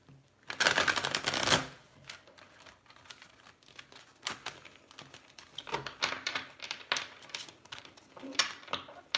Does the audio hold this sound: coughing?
no